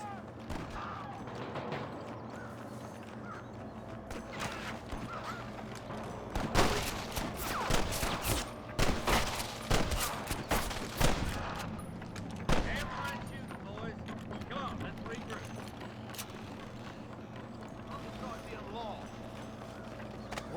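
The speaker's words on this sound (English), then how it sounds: "Gunshots!" Gunfire in the video game Red Dead Redemption, a flurry of sharp shots cracking over galloping hoofbeats in the middle stretch, with voices talking throughout.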